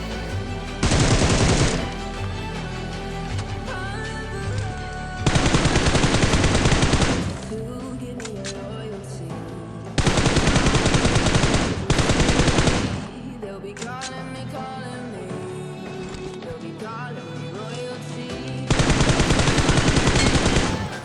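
An M416 rifle fires long, rapid spray bursts in a video game, four loud automatic volleys separated by quieter game sounds.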